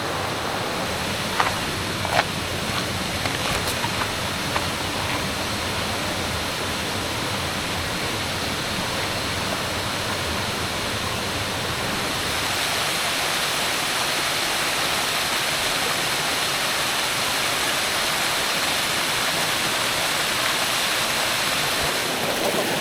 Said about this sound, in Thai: เหมือนผมได้ยินเสียงน้ำตกไกลๆ นะ